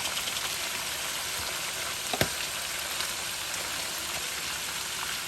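Goat intestine sizzles steadily in ghee in a close, continuous fry with a crackling hiss and a single sharp pop partway through; no voices.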